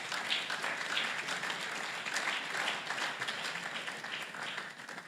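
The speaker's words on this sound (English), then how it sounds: "A round of applause, guys." Applause at a student meetup with animation professionals, a steady wash of many hands clapping for several seconds, moderately quiet and heard from across the room.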